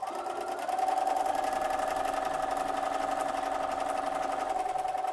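A sewing machine with a walking foot stitches a quarter-inch quilt seam, starting up and then running in a steady, even whir with a fast mechanical buzz for about five seconds, close by and with no talking.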